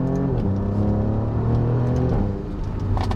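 A tuned 560 hp Alfa Romeo Giulia Quadrifoglio engine revs and accelerates hard, a steady loud roar with rising pitch, close by and with no talking.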